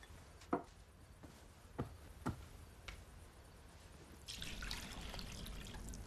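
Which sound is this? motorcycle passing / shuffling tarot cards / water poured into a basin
water poured into a basin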